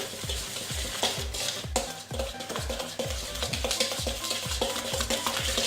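Cookie dough being mixed with a whisk or wooden spoon, a steady rhythmic stirring about twice a second with thuds against the bowl, close and fairly loud, no voice over it.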